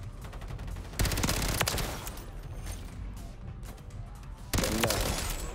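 Rapid, continuous automatic fire from the FJX Horus submachine gun in Modern Warfare III rattles close and loud in dense bursts, with sharper shots standing out.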